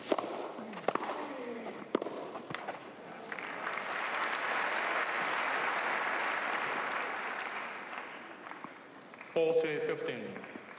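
British crowd at a Wimbledon 2016 semifinal applauding, a broad sustained wash of clapping that swells mid-clip and fades, with brief voices and court sounds at the start and end.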